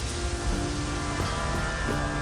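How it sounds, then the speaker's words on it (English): Steady rain falling in the New Zealand mountains, a dense, even hiss of drops that stays loud and constant from start to finish, with no one speaking. "you can see it's raining now again. It's starting to fall again."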